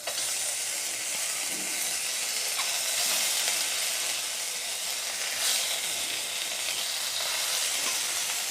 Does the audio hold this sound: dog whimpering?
no